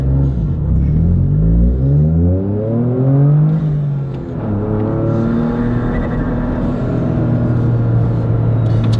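A Toyota GR Corolla fitted with an MBRP center exit exhaust revs up and down through several loud, close pulls, with a deep rumbling exhaust note and engine whir that rises and falls without any talking.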